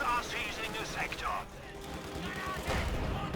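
Company of Heroes 2 match with mortar and small-arms fire crackling in bursts under fast, excited commentary from a caster.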